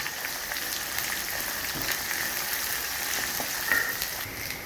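Onions and green chilies fry in a pan for poha upma, making a continuous close sizzle with faint crackling and occasional stirring scrapes, no voices over it.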